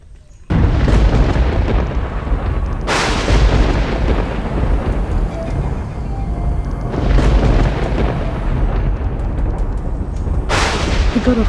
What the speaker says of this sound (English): The god of thunder just confirmed it.